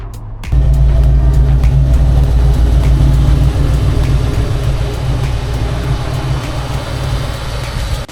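The 302 cubic inch 5.0-liter V8 of a 1988 Ford Mustang notchback runs loud and close outdoors, a deep steady rumble that starts abruptly and holds a constant idle.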